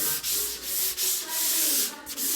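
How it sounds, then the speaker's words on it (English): Timber stairs being sanded by hand with the grain, a rough scratchy rubbing in about seven close, even strokes with brief gaps between them and nobody speaking. "always you sand the timber"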